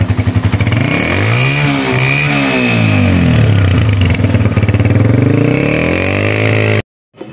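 A self-start motorcycle fitted with a remote start kit fires up and idles loudly up close, its engine note rising and falling briefly before cutting to silence at the end.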